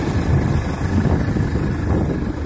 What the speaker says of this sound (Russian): Трактор же тот же самый